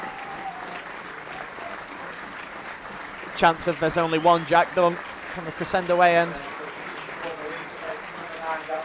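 Football fans at an FA Trophy match between Marine and Scarborough Athletic keep up applause for an injured player, a steady wash of clapping under a commentator who speaks over the middle of it.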